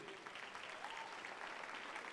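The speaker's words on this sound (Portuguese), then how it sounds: "Os que podem, vamos aplaudir esses queridos aqui." Church congregation applauding during a worship service as people come forward, a steady dense wash of clapping that holds for the whole stretch, with a faint voice briefly audible beneath it.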